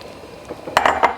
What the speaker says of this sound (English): You want to continue stirring constantly